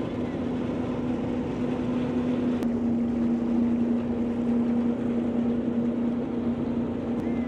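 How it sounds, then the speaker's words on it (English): A passenger ferry crossing to Bulimba drones with a steady, continuous engine hum mixed with broad water and wind wash, constant and close throughout, with no talk. "catching the ferry from here over to Bulimba"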